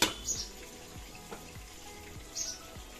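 Pointed gourds (potol) fry in a pan with a soft, steady sizzle and a few faint stirring scrapes, quiet and close, with no voices.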